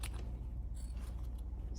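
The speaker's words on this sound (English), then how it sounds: "I'm just going to take scissors and go back around so that there's not," Scissors snip around the corners of quilting fabric for a half-hexie table runner's bias binding, a few faint, quick crisp cuts at close range with no one talking.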